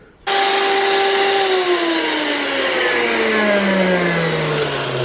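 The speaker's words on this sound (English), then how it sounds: "I'm gonna let it defrost a bit because otherwise my blender is going to get stuck" A blender chews through partly frozen fruit with coconut water, starting abruptly and running as a loud, continuous close motor roar whose pitch slowly sinks as the load drags on the blades.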